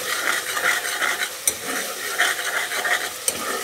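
Minced chicken and onions sizzle steadily in a hot pan while being stirred, with a continuous frying hiss and occasional sharp scrapes of a utensil against the metal.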